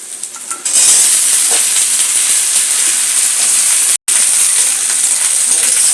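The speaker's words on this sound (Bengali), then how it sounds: "এবার সবকটাকে এইভাবে ভালো করে ভাজবো" Potatoes, spring onions and peas sizzle loudly in hot oil, a constant crackling hiss with a brief pause near the end, no talking over it.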